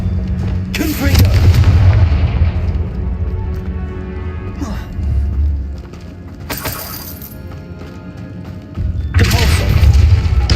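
A Confringo fire spell blasts in Hogwarts Legacy, with loud booming bursts rolling through a deep rumbling bed. The sharp impacts come at the start, middle and end, and a voice speaks over the din.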